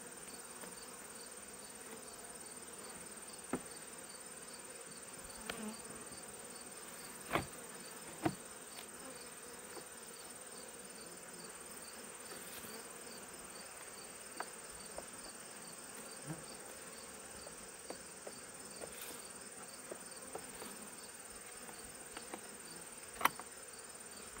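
A steady, soft honeybee buzz drones throughout from inside a hive, with scattered faint clicks and knocks over the continuous hum.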